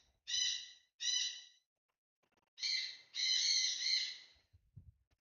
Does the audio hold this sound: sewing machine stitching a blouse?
no